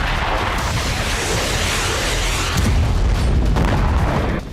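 Explosions and heavy bombardment on the Donetsk battlefield, a dense, loud rumble of booms with a stronger blast surging in the latter half.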